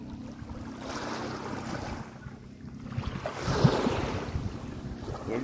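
Sea waves at high tide wash and roll continuously while steady wind buffets the microphone, a loud, full surf roar with a swell building toward the middle and no talking.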